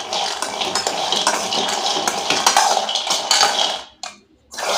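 Raw peanuts dry-roasting in a hot kadai over a medium flame, stirred with a spatula that scrapes and clatters the shells against the metal in busy, uneven bursts, then a brief lull before the scraping resumes.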